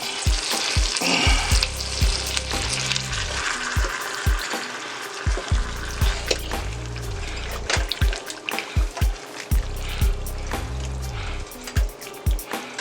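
Meatballs are stirred gently through sauce in a pan, giving close wet sloshing and scraping strokes in a loose rhythm over a continuous sizzle, with no talking.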